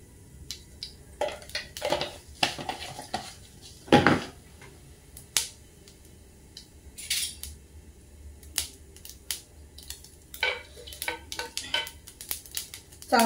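Mustard seeds and cumin are tempered in hot oil in a pan, giving irregular sharp crackles and pops spread over a low sizzle, with a few louder spits.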